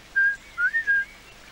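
A person whistles a short tune in a French TV car-insurance advert: one sustained note, then a quick run of three or four brief notes, clear and close, alone without talk.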